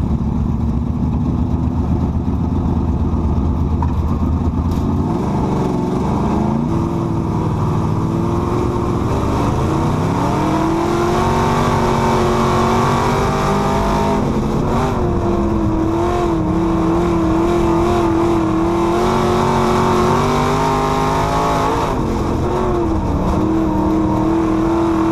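In-car engine of a USRA B Mod race car at Springfield Raceway, a loud continuous roar with rising and falling revs as the car laps, no talk over it.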